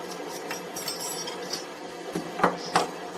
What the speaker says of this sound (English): I'm carefully and gently taking the ladle so it lies like this